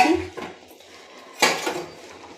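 Eggs go into a bubbling egg curry with potatoes in a cooking pot, making a couple of sharp metallic clinks and clatters of utensil against pot with quiet pauses between.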